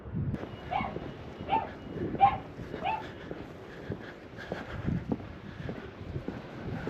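Dogs at a beachfront parking spot yip, bark and whimper in scattered short bursts over several seconds, with wind buffeting the microphone in the background.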